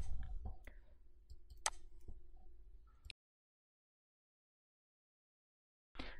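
Mouse clicks while working in Adobe Illustrator: a quiet, scattered run of sharp clicks over faint room noise, then near silence before a brief return of sound at the end.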